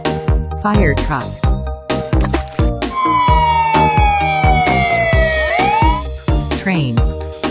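A toy fire truck siren gives a long, slowly falling wail followed by a short rising whoop, heard close and clear over a bouncy plucked musical backing.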